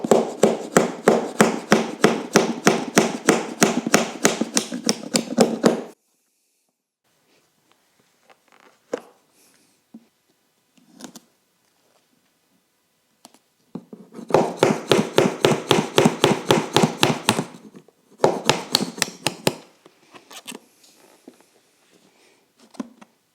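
A punch or pop rivet is hammered against the hinge pins of a Givi motorcycle top box lid in a rapid, sharp run of metallic taps, followed by silence, then a second quick burst of taps and a few scattered knocks.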